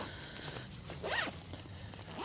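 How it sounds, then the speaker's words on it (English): A zipper on a Hilleberg tent is pulled open in a single near, rasping sweep, with a faint shorter zip following, outdoors at a summer wild camp. "Wait now, try and get the zips."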